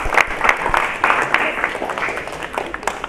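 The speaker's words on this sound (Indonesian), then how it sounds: "kasih aplaus untuk kalian semua" Students in a classroom receive a short burst of clapping from a small group, uneven and fairly close, with some voices mixed in.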